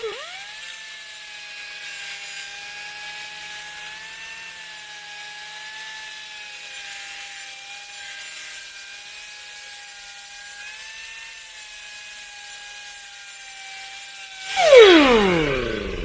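A grinder sharpens the steel blade of a Swisher four-wheel pull-behind finish cut mower, a loud sustained high whine holding steady for many seconds before a brief harsh scrape and rattle at the end.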